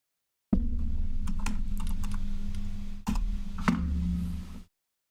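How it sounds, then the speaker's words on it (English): Fast, steady clicking of typing on a computer keyboard, close and clear in a quiet room, with a brief pause around the middle before the typing resumes. "We can start typing these up."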